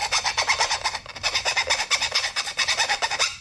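A file's flat side rasps thick burrs off a fresh metal cut made with a Bauer 14-inch drop saw, quick back-and-forth scraping strokes in a brisk, even rhythm, close and loud with no talking.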